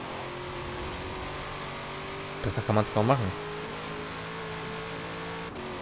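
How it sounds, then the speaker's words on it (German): Supercharged V8 of a Corvette C7 Z06 in Forza Horizon 4 holds a steady engine drone, then gives a few quick, loud rev bursts in the middle before settling back, with someone talking over it. "fetter V8-Motor mit Kompressor."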